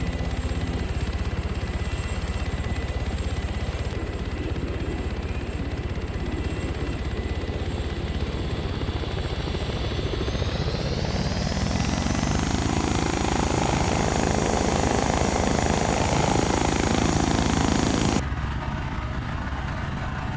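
A large vertical takeoff aircraft in ARMA 3 roars steadily with a dense rotor-and-engine drone, the pitch rising partway through before the sound cuts off near the end.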